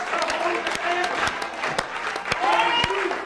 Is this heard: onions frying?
no